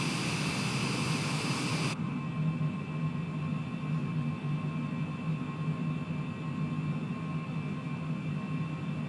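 Airplane engines at climb power on a flight from Boston toward Albany, a steady loud roar and drone filling the cabin, dropping slightly in intensity after the first couple of seconds as the throttles are eased back, with no talking.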